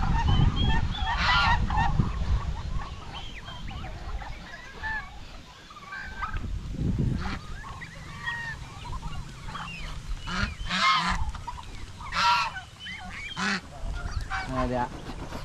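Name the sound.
ducks on a farm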